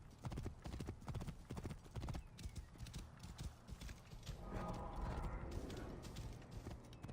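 Horse hooves clip-clop steadily in Assassin's Creed Origins, a close rhythmic trot with some mechanical game noise behind it and a brief louder rumble near the end.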